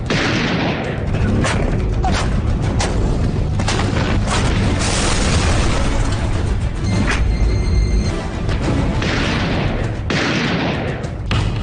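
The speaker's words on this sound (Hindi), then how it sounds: "बमों के धमाकों की गूंज करगिल की घाटी को दहला रही थी।" Bomb and artillery shell explosions echo through the Kargil valley in wartime: heavy, continuous booming and rumbling bursts overlap into a dense, loud roar with no pause.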